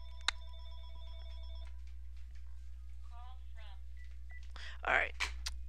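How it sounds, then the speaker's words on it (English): A telephone rings in a room, giving a bright electronic trill early on that repeats over a low steady hum. Faint chirpy tones and a brief louder burst follow, with no talk over it. "Sorry if you hear that phone."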